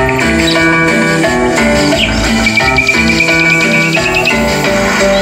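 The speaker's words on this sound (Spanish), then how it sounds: "Esos chingados pajaritos." Little birds chirp and tweet over an electronic cumbia track, repeated bright calls riding on steady beats and synth melody, loud and continuous with no talking.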